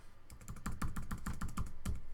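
Fingers type rapidly on a computer keyboard, close to the mic. Crisp, uneven key clicks come in quick bursts for about two seconds at moderate loudness, with no voice.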